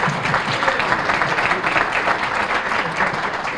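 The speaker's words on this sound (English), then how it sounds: "Let's give you all a round of applause." Crowd applause at a city State of the City event, a dense, even wash of many hands clapping throughout, moderately loud and fairly distant, with no talk over it.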